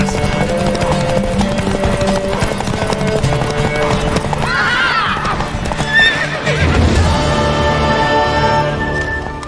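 A horse in The Witcher 3 video game neighs loudly over a steady clip-clop of hooves, the whinny rising and falling in the middle and a second call near the end, with music and game ambience underneath.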